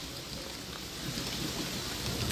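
Heavy rain pours down steadily in Jammu, a dense broadband hiss that builds slightly louder partway through and holds with no voices.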